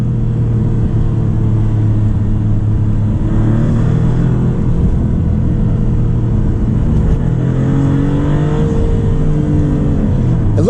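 A 2024 Maserati MC20 turbocharged sports car accelerates hard on a winding road, its engine a loud close drone with rising and falling pitch sweeps as it pulls through the revs, with wind and road noise throughout.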